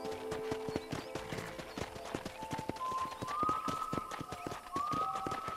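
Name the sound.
horse galloping in video game Red Dead Redemption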